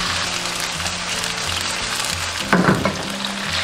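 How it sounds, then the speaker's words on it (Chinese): Chicken pieces pan-frying over medium heat, a steady close sizzle throughout with a brief louder crackle burst near the end. "全程一定要中火煎，把这个鸡肉的表面煎成那种焦黄色"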